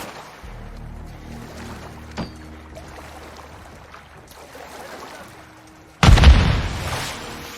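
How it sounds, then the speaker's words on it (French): In the game Call of Duty Modern Warfare 2, a grenade blasts in water with a sudden loud, heavy boom and churning splash near the end, after a low rumbling engine-like drone and a faint thud. "Ils envoient des grenades dans l'eau."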